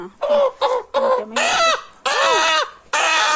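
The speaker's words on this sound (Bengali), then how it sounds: "এটা দেশি মুরগা।" A local desi rooster clucks and calls in several loud, close bursts separated by short pauses, with no talking.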